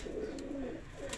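Pigeons coo in soft low rounded warbles, a couple of overlapping calls close by, with a faint steady background.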